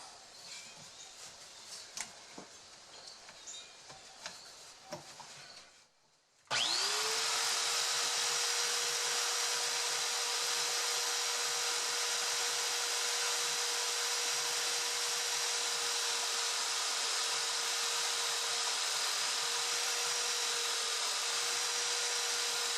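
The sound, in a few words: belt sander sanding a guitar bridge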